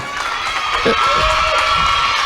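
A crowd at a farewell gathering for priests at the Our Lady Periyanayagi Shrine in Konankuppam claps and cheers steadily, with shrill whistles and children's shouts rising through the dense, continuous din.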